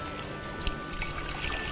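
Hot water pouring into a cooking pot, a steady broadband splashing stream that runs the whole short moment at moderate level, with no talk over it.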